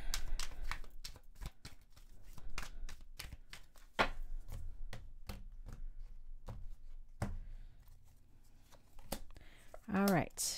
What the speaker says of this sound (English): You guys are going to see a lot of shuffling.